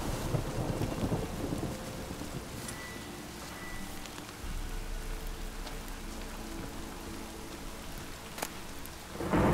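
A thunderstorm with rain in The Witcher 3: a steady hiss of rainfall runs throughout under low rolling thunder, with a sharp crack of thunder late on and the storm swelling louder at the very end.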